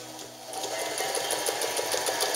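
An Alden manual zigzag sewing machine stitches in a fast, even, mechanical rhythm, quiet and close, with no talk.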